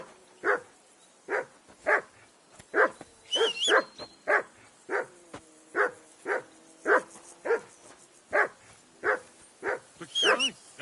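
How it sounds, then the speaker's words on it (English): A dog barks steadily and loudly nearby, around fifteen rhythmic woofs at regular intervals, with faint high calls and background voices briefly audible between barks. "Henry, whistle at that mutt of yours to stop barking"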